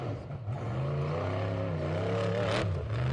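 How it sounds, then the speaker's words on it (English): An off-road race car engine drones from out on a King of the Hammers desert course, a harmonic, wavering roar that rises and dips in pitch while carrying steadily from afar. "I can hear the noise of that car from nearly half a mile away"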